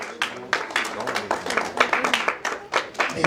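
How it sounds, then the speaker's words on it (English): Audience clapping for children at an awards gala, a dense run of hand claps spreading through the room at a steady level for a few seconds, with voices mixed in beneath. "We need to clap for these children."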